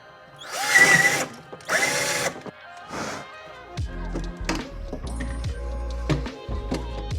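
A power drill fitted with a small bit bores through the wall of a wine fridge, several close, loud bursts of whining motor spin-up followed by grinding, stuttering drilling with knocks.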